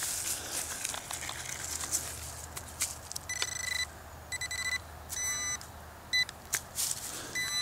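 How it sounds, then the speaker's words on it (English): A metal detector sweeps over coins on a hillside, giving repeated bursts of bright electronic beeps that start and stop in quick clusters against faint outdoor background noise. "The detector's setting it off."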